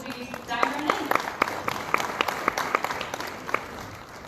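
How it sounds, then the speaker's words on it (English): Workshop audience at a Minnesota library association event claps for a speaker, a moderate round of applause with distinct individual claps standing out over a roomy, reverberant hall and faint voices. "please give me a round of applause as we dive right in"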